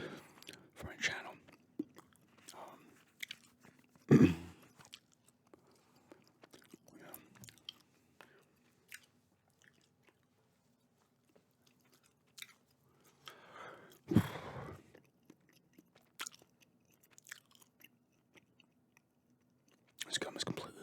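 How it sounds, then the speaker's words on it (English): Flavorless chewing gum worked close to the microphone, with moist smacking and clicking chews that come in irregular bursts and leave quiet gaps, plus a few louder bursts; soft voice sounds appear between the chews. "This gum has completely lost its flavor, but I don't feel like grabbing another piece"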